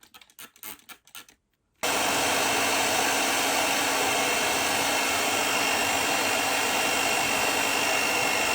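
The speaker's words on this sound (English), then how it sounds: "the trick here is to use some water and then dry it with a hairdryer" Brief rustling handling noises, then a hair dryer switches on to dry a dampened human hair topper and blows loudly and steadily, a constant whooshing roar that fills the rest of the clip.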